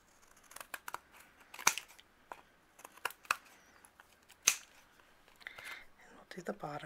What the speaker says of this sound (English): then I'm going to use my scissors,